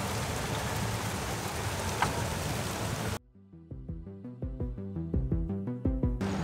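Heavy storm rain pours down at La Défense as a dense, loud, steady wash of hiss, followed by rhythmic percussive music with the rain cutting back in at the very end.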